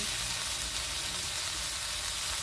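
Chicken stir-frying with chili paste and sauces gives off a loud, steady sizzle with constant crackling hiss close to the pan, unbroken throughout.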